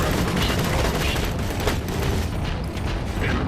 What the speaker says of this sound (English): Rock launcher.